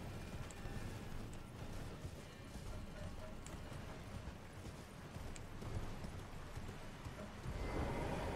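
A horse gallops in the video game Elden Ring, its rapid, steady hoofbeats drumming under a dense, constant wash of game ambience at a fairly strong level throughout.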